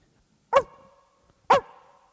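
A person imitates a small dog barking, giving two short, sharp barks about a second apart, each with a ringing tail, close to the microphone with no other sound around them.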